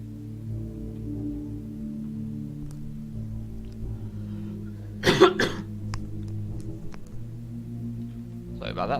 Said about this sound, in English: I had a bit of a cough there.